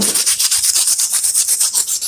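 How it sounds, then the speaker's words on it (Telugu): A close, steady rhythmic rubbing of oil onto scissor blades, quick back-and-forth strokes repeating evenly, loud and alone. "ఆయిల్ వేసి వీటి మీద రుద్దండి ఇలాగా"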